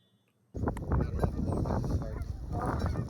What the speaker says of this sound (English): I also got to see a snow goose